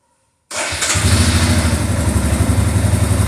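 Royal Enfield Himalayan Scram 411 motorcycle, already warmed up, starts after a brief silence and settles into a loud, close, steady rhythmic idle.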